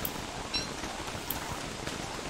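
Heavy rain in the survival video game Don't Starve Together gives a dense, steady hiss of downpour with scattered brighter drop ticks, even and fairly loud throughout, with no voices.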